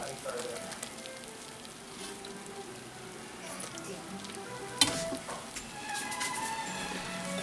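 Garlic sizzling in melted butter for a spicy pizza sauce, a faint continuous crackling hiss with occasional small pops, under a quiet background.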